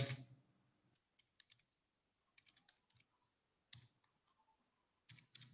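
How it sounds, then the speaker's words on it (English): A few sparse, quiet key clicks from a computer keyboard in a near-silent room, coming in short bursts separated by long pauses. "I am typing now"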